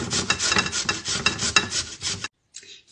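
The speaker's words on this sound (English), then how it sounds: "Step 2. Grate the potatoes." Potatoes rubbed hard against a hand grater for boxty batter, a steady rapid rasping scrape with rhythmic strokes, close and loud, then a brief pause and a faint final scrape.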